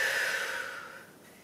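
A long audible exhale during a Pilates exercise with a Swiss ball, a breathy whoosh that fades gradually over about a second with no talking.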